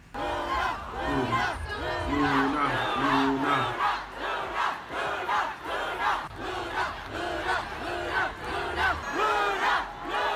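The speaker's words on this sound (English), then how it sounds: "at any given moment, the crowds would chant, "LOONA, LOONA, LOONA."" A large crowd of K-pop fans chants LOONA in loud, rhythmic repeated bursts, with cheering and shouting between the chants.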